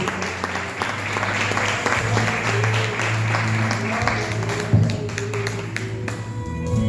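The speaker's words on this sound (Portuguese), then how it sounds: "O povo de Deus pode aplaudir o Senhor Jesus." Church congregation clapping together during a worship service, a steady dense patter of hands running throughout with a low sustained tone beneath, moderately loud and close.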